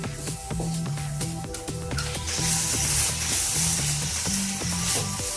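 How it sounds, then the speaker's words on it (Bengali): Grated coconut fries in a pan with a steady close sizzle, punctuated by repeated scraping and stirring strokes against the pan; no one speaks. "এবার আমি নারকেলটিকে ভালো করে ভেজে পানিটাকে শুকিয়ে নিব"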